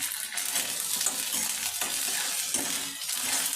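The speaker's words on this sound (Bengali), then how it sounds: "1 চামচ দিয়ে মশলাটাকেও একটু হালকা করে ভেজে নেব।" A spice paste of ginger, garlic, coriander, cumin and pepper fries with onions in a pan, giving a loud, steady sizzle broken by occasional stirring scrapes.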